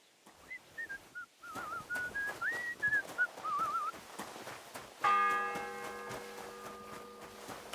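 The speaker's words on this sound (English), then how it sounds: "The first bell." A church bell in the game Kingdom Come: Deliverance II tolls once, loud and ringing with a long sustained decay, after a stretch of faint whistled tune and soft clatter.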